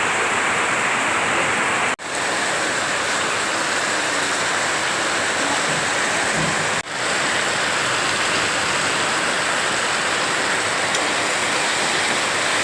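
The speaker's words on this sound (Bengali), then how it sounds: "দেখো কত বৃষ্টি, কত বৃষ্টি হচ্ছে।" Heavy rain pours down in a loud, continuous roar of broadband hiss, steady throughout apart from two brief dips, with no voices over it.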